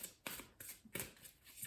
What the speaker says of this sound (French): je prends le tarot doré et je vais sortir quelques cartes